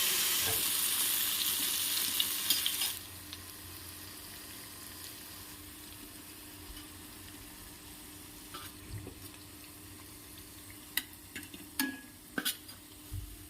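Urad dal vada frying in hot oil over a medium flame, a loud, bright sizzle for about three seconds that settles into quieter bubbling, broken later by scattered clinks and knocks of utensils.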